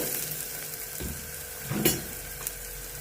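Cumin and onion frying in oil in a pan over lowered heat, a steady close sizzle with a brief stirring clatter partway through.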